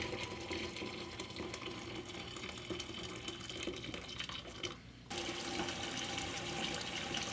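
Hot water is poured into a pressure pot sitting in a sink, making a steady, rushing flow that dips briefly and then resumes just as strongly.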